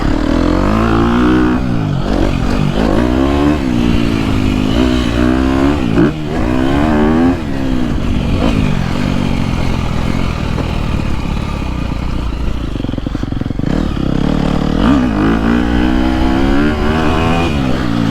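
2022.5 KTM 250SXF four-stroke dirt bike with an aftermarket exhaust pipe, engine loud and close, repeatedly revving up high and falling back in rising and dropping sweeps over a steady droning base, no voices.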